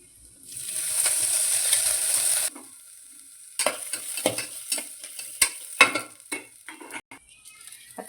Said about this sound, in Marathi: आता हे आपण मसाले पूर्ण भाजून घेऊ.